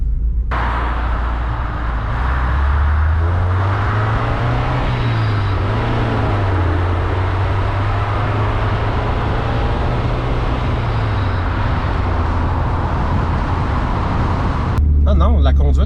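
A 1993 Honda Del Sol driving, a loud steady engine drone and road rumble from inside the cabin, the pitch rising and falling gently, with people talking over it throughout.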